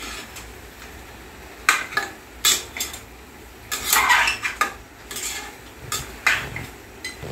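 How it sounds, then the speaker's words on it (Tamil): Vegetables sautéed with turmeric in a pan, a ladle scraping and knocking against the metal in irregular bursts between quieter pauses, close and clattery over a faint sizzle, no speech. "இப்போ மஞ்சள் போட்டு லைட்டாக வதக்குறோம்"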